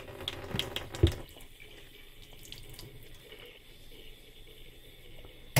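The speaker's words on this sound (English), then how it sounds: "then fill it on up with clean water" Clean reverse-osmosis water from a tap runs into a container, a soft steady trickle and hiss following a couple of sharp knocks from handling, fairly quiet, with another thump at the end.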